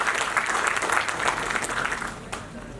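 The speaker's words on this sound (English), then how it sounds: "Please give a huge round of applause for all our speakers" Audience applause after an Oxford-style arbitration debate on stage, steady broadband clapping from a large crowd sustained throughout, fairly close and full.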